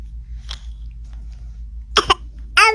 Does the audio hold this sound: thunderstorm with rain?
no